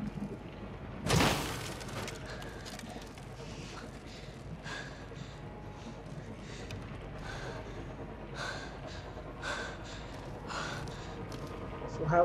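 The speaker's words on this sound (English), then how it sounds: "Her breathing is really what kills it. It really makes her seem like she's cold." A video game character in Beyond Two Souls breathes heavily as if cold, with a sharp gasp and then repeated shaky breaths and sighs under faint background sound.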